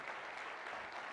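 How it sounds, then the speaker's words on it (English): In a new performing arts center during a city's State of the City address, an audience breaks into a round of applause, a quiet, distant-sounding wash of clapping that stays even for about a second. "let's give the school district a big round of applause for this wonderful facility"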